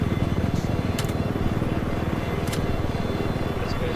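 A helicopter in the video game Battlefield 4 thrums with a fast, rhythmic rotor chop, loud and continuous, broken by a few sharp high clicks and effects, with talk over it.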